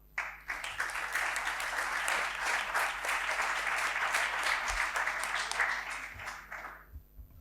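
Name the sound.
audience applause for theatre school graduates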